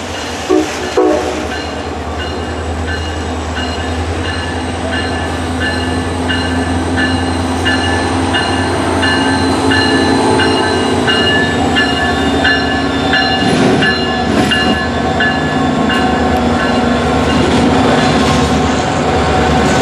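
CSX Santa Train rolling over the Clinchfield/Norfolk and Western railroad bridge across Route 270/4th Avenue in St. Paul, Virginia, with a steady loud rumble of passenger cars and a sustained horn tone running throughout.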